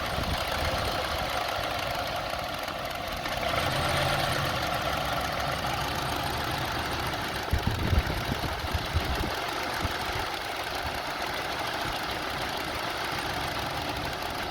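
A Honda CR-V engine idles roughly with a misfire, an uneven, knocking rhythm, steady and close, with a few louder stumbles partway through.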